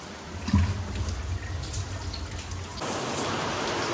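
Heavy rain pours steadily in a storm, a dense hiss of drops on surfaces that swells louder partway through and continues without pause, close and enveloping.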